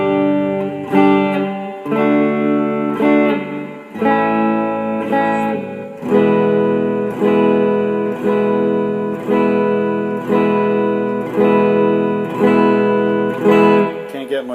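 Acoustic guitar strumming easy open chords of a song, a steady series of ringing chord changes with regular strums, close and clear, played alone with no talking.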